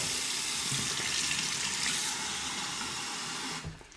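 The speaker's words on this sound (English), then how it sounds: "I'm going to warm up my Scully cup, fill it with hot water." Hot tap water runs in a steady, rushing stream to fill a Scuttle shaving cup, then cuts off abruptly near the end. The water is close and fairly loud, with no talking.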